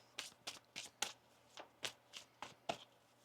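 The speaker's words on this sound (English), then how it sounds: "One more shuffle here." Tarot cards being shuffled by hand in a series of about nine crisp, riffling bursts at a steady rhythm, close and fairly quiet, with no talking.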